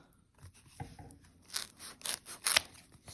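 Scissors snip through soft foam packing sponges from a pallet delivery, giving several quick crisp cuts spaced irregularly, close and moderately loud with no talking.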